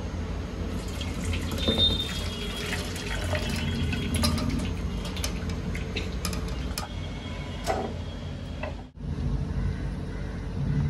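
Hot water poured off soaked almonds, a steady broadband splash and trickle of liquid running for about nine seconds, briefly cutting out near the end before resuming.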